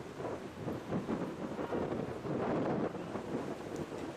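Strong headwind gusting across a disc golf course, a low rushing buffet against the microphone that swells and eases in uneven surges, with no voices.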